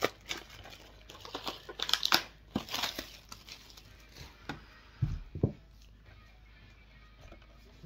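Plastic shrink-wrap being torn and peeled off a Rocky III 4K Ultra HD Blu-ray steelbook, close crinkling and crackling in irregular bursts with quieter pauses and a couple of low bumps as the case is handled.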